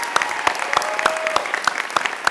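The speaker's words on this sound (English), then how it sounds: "a big round of applause" Applause from the audience at a university orientation convocation, a steady crackle of claps with distinct sharp individual hand claps standing out near the front, continuing evenly for a couple of seconds.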